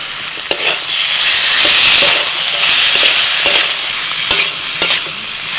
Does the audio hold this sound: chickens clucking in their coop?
no